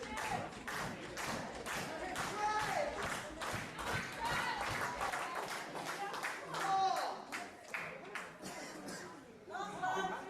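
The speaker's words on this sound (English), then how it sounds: "The crowd getting into this one now." A wrestling crowd at a Rise Above match claps in quick rhythmic bursts and cheers steadily, with a voice talking over parts of it.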